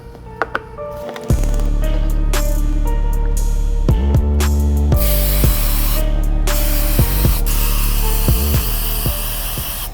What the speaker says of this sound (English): lay down a good 10 coats of the almighty sealant all over the foam and back rubber piece